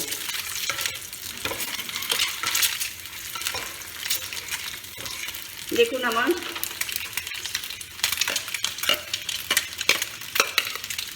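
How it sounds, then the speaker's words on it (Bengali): Eggs fry in a tablespoon of ghee in a pan, giving a steady close sizzle broken by scraping stir strokes, and a voice briefly speaks over the cooking. "ডিমগুলো ভাজা ভাজা হয়ে গেছে, লাল লাল হয়ে গেছে"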